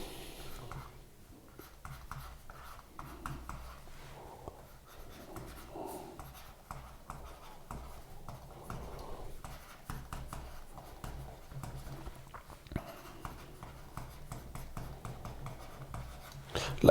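A pen writing on a Huion Ink digital note tablet, a soft, close scratchy rubbing of the nib on the surface that runs faintly and steadily throughout, with small taps and strokes and no talking.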